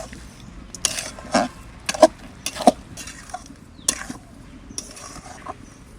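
Spoon scraping and knocking against a pan while a date palm jaggery mixture is stirred for patishapta pitha: irregular close clicks and scrapes over a low steady background hum.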